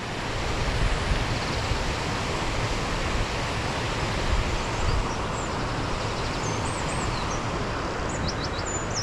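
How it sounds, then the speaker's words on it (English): Waterfall crashing into a splash pool, a loud, dense, continuous roar of falling water heard close up, with a few faint birds chirping above it. "you're beginning to hear where the water's coming down into the splash pool now"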